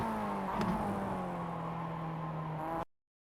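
A Mazda MX-5 race car engine in iRacing, a steady droning note with harmonics sliding slightly as it drops through gears toward first under braking, with a brief blip partway through, alone and fairly close.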